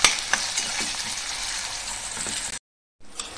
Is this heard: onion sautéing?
yes